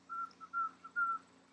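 A person whistles a soft, steady pitched melody during a Sikh Kundalini yoga chant, three sustained notes with short dips between them, faint and close, with no speech.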